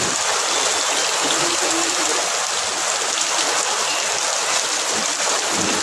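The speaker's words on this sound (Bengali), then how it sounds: "প্রচুর বৃষ্টি।" Heavy rain pours steadily and loudly outdoors near a railway crossing, a dense unbroken hiss with no pauses and no other sounds standing out.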